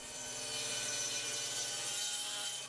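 A bench saw cuts through barrel stave wood with a steady, close, bright rasping whine that holds for the whole cut and breaks off abruptly at the end.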